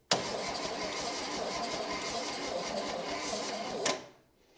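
A stuck engine in a 1966 Chevy Bel Air turning over on the starter, a loud, steady whirring crank with rapid rhythmic chugging that runs for about four seconds and then cuts off abruptly.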